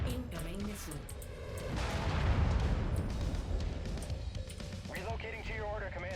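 A missile slams in during Mechwarrior 5 combat, a heavy booming impact with rumbling explosive bursts swelling midway, amid game noise and someone talking over it.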